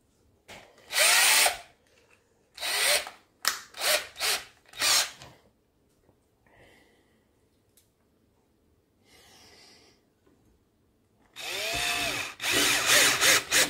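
A cordless drill drives screws into a semi-hollow electric guitar body during vibrato installation, in several short loud bursts, then quieter handling sounds, and a final longer run of drilling.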